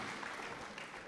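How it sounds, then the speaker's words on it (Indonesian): An audience clapping for a student named Rahma at a gathering, a dense, continuous burst of applause heard briefly and fairly faint. "Boleh tepuk tangan sekali lagi buat Rahma."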